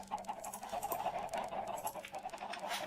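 Chickens in the video game Minecraft cluck quietly in quick, soft bursts, faint against a low background hum.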